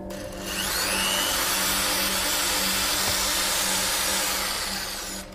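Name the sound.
power drill drilling a hole in wood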